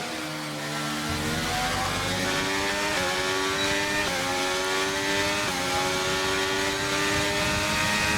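An F1 car in F1 23 spins and revs hard, a loud close engine screaming with rapid shifting pitch sweeps and stepped gear changes in a dense, continuous roar, no talking.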